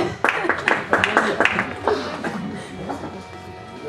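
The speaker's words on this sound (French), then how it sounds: "On applaudit le docteur Tellier, et on applaudit aussi Bérénice, ce soir, qui démarre." A small evening audience claps for a doctor and a presenter, scattered distinct claps with uneven rhythm that soon thin out, while a voice and some chuckling can be heard alongside.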